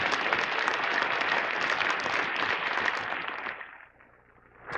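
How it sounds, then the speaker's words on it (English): Conference audience breaks into dense, steady applause at a hacking event's closing ceremony, filling the room for several seconds before thinning out and fading, with no speech over it. "can we get a round of applause for Troy Jessup and everything that he's done?"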